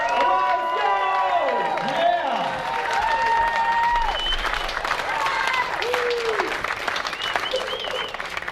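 An audience at a student entrepreneur awards event claps and cheers steadily, with whoops and shouts from the crowd throughout, while a voice calls out over the noise.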